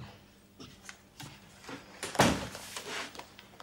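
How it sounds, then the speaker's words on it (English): A door is pushed shut in an indoor scene from a hospital drama, one firm thunk in the middle amid soft shuffles and small knocks, near and moderately loud. "Close the door, please."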